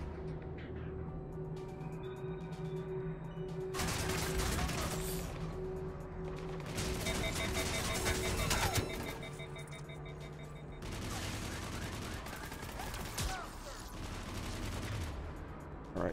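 Cluster grenades go off in Mass Effect 3: dense, crackling bursts of blasts and debris in loud clusters, several separate volleys over a steady game backdrop.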